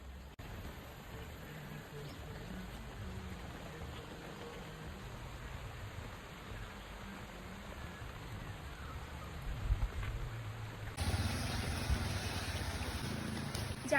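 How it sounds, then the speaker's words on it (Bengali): Heavy torrential rain falling on a hill road, a dense, even wash of steady noise that swells louder toward the end, with faint voices in the background. "যাকে বলে মুষলধারে বৃষ্টি"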